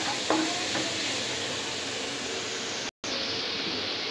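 Grated carrot and papaya cooking in a karahi for carrot halwa, a steady soft sizzle with faint stirring, plus a brief dropout near the end.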